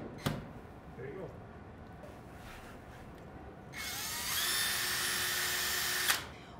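A power drill drives 2.5-inch wood screws into pre-drilled holes in a door jamb during a door installation. After a few light knocks, a whirring burst of a couple of seconds ends in a sharp stop.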